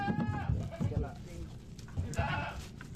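Goats bleat in short wavering calls at the start and again near the end, during a village flood evacuation by boat, under a narrator's voice and background noise.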